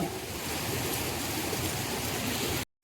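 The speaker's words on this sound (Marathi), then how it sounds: "या साईडला बघू शकता पाण्याला स्पीड किती आहे हे बघा" Fast-flowing stream tumbling past large boulders near Loteshwar temple in Ratnagiri, a steady, loud, close rushing wash of water that runs unbroken and then cuts off abruptly just before the end.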